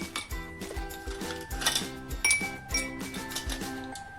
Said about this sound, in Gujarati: હવે આપણે આઈસ ક્યુબ નાખીશું